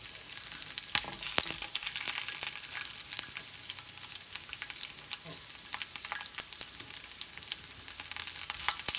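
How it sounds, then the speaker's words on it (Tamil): Curry leaves, garlic, tamarind and grated coconut fry in a hot pan, a steady close crackling sizzle with occasional stirring scrapes running throughout, no voices. "இதை போட்டு நல்லா ஃப்ரை பண்ணணும்."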